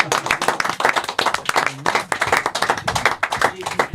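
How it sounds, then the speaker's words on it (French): An audience bursts into brisk, close applause at a French television show, quick sharp handclaps running continuously for a few seconds. "On applaudit le doudou."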